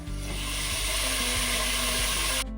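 Chopped tomatoes fry in a pan with spice powders for tomato rice, giving a steady, close, dense sizzle with faint stirring scrapes throughout, cutting off abruptly at the end.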